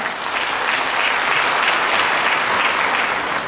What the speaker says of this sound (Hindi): करेंगी तो तालियां बजाना पड़ेगा।